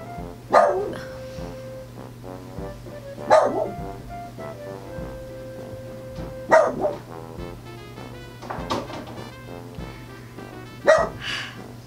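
A dog barks in sharp bursts, four or five loud barks spaced a few seconds apart, with a steady hum and faint background noise between them.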